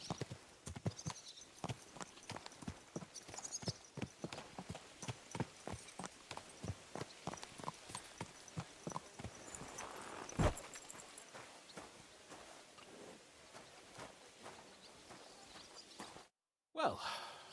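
Horse hooves clip-clopping in the medieval game Kingdom Come: Deliverance II, a steady walking rhythm of close, distinct hoofbeats with a snort or sigh midway, a brief break near the end, then more steps.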